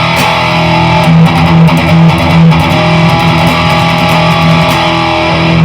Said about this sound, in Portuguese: Um distortion ali, high gain bem... com muito ganho, muita saturação